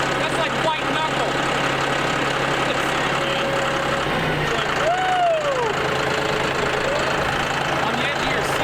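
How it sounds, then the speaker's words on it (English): A tractor engine rumbles continuously at a low, steady idle-like drone, close and fairly loud, with voices talking over it and a brief rising whine in the middle. "You've never gone 8 miles an hour in a tractor, you're not living life."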